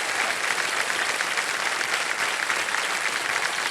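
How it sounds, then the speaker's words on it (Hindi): Studio audience applause on the Indian TV quiz show Kaun Banega Crorepati, a steady, dense round of clapping from a large crowd, loud and even throughout without talk. "तालियां बज जाए जोरदार उनके लिए।"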